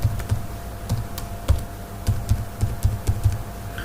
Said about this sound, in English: Now going to again enter my password